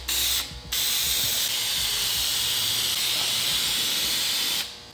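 Spray gun hissing steadily as a third coat of paint goes onto a fabric insert panel of a door, one continuous loud burst after a brief start-and-stop near the beginning.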